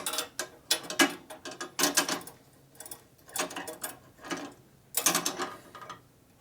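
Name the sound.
loosening a fitting on a motorcycle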